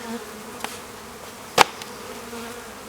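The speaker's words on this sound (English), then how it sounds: "there's very few bees left in here." Honey bees in a nearly empty package hum in a steady, close buzz, with a few sharp clicks and taps standing out above the drone.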